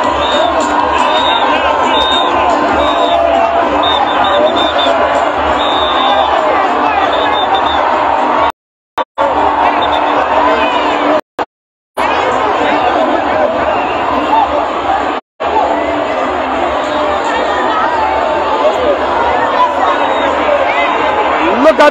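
Huge crowd at a rally for President George Weah in Monrovia: dense, continuous cheering and chatter from a large gathering, loud and close, with a few brief dropouts.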